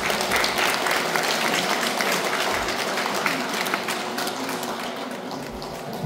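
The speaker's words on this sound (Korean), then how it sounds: "우리 서지현 부장님께 더욱 정진하시라고 큰 박수 한번" Congregation at a Won Buddhist temple service applauds a department head, a broad, steady wash of many hands clapping that carries on evenly, slightly fading toward the end.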